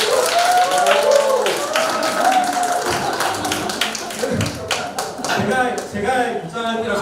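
An audience applauds to welcome speakers onto a stage at a talk event, many hands clapping in a lively, irregular patter that thins toward the end, with some voices mixed in.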